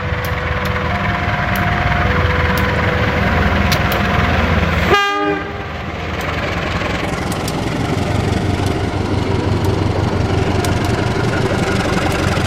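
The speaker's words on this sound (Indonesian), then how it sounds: "Kan keretanya lewat sana." A train rolls along a railway line in Solo, its steady heavy rumble and clatter running throughout, with several sharp horn blasts sounding early on before the noise settles into a continuous passing roar.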